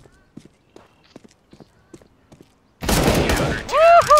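Loud burst of automatic gunfire in CS:GO on the de_cache map, erupting suddenly after quiet footsteps and soft movement, with dense rapid shots and ringing, ricochet-like tones toward the end.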